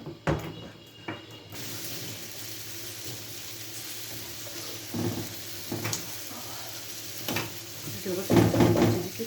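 Hawawshi, meat-stuffed Egyptian bread, frying on a hot stovetop griddle gives a steady, fairly loud sizzling hiss, broken by a few sharper clatters and a louder crackling surge near the end, with no talk.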